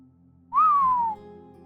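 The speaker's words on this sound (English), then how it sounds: "The guy let out a low whistle." A man lets out one low whistle that rises briefly and then slides slowly downward for about half a second, close and clear over a faint steady hum.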